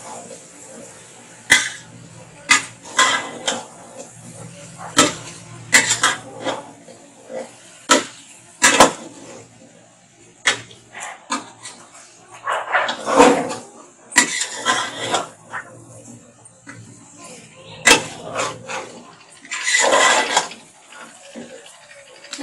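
A handi cooking pot is stirred and mixed with repeated scraping and clanking strokes. The sharp metallic scrapes come in irregular bursts with quiet gaps, close up, and a voice talks intermittently between them.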